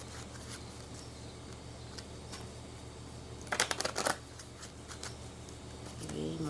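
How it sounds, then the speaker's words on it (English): Tarot cards being shuffled close up, a quiet papery riffling with a brief, sharper flurry of snapping cards in the middle, over a low steady hum and faint background noise. "Three more shuffles."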